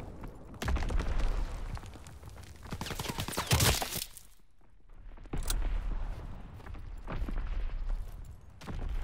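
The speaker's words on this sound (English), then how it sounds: "Enemy bomb incoming!" An enemy bomb exploding in a Call of Duty WWII multiplayer match, with a sharp loud blast amid scattered gunfire and battlefield noise, rising and falling in bursts.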